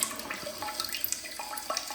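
Water sprays from the front-wash nozzle of a Casta Diva smart toilet with built-in bidet, a close, continuous hissing splash with small bubbling spikes throughout, with no talk.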